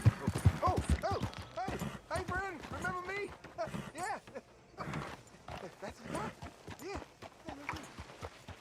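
A horse gallops at speed in Red Dead Redemption 2, its rhythmic hoofbeats running steadily under someone talking almost constantly over it.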